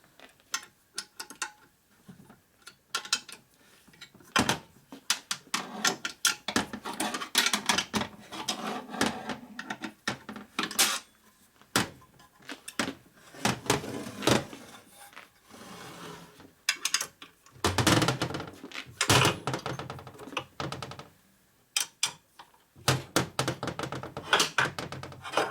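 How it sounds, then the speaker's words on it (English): A ratchet wrench clicks and clunks in irregular bursts, loosening bolts on a 1972 Harley-Davidson Sportster XLCH 1000cc ironhead engine during a rebuild, with close metallic ratcheting and pauses between turns. "we're going to start loosening things up a little bit and see when we start getting movement"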